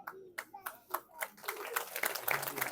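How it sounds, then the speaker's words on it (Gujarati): Hands clapping during a welcome for a goddess at a Hindu temple in Leicester: scattered sharp claps at first that thicken into steady group clapping, with voices and chanting underneath. "તાળી પાડો."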